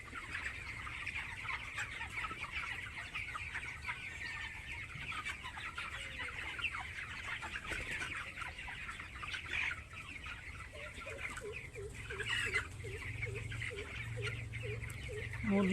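Nineteen-day-old broiler chickens on a poultry farm cluck continuously as a dense flock. A few louder calls and a rising clucking run stand out over the steady background murmur.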